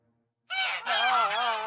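Geese in a goose pen honk and cackle loudly in a short, close burst after a moment of silence.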